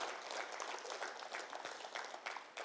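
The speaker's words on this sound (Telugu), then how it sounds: "ఒకసారి గట్టిగా చప్పట్లతో వారికి అభినందన తెలుపుతుంది" Steady applause from a crowd at a Guru Purnima celebration, a dense wash of clapping that holds for a few seconds without voices.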